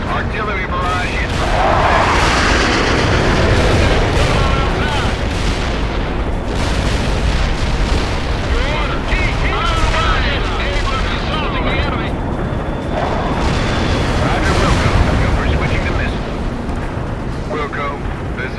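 Artillery barrage explosions in the video game World in Conflict, a loud, unbroken roar of overlapping blasts and rumbling booms lasting the whole stretch, with voices talking over the din.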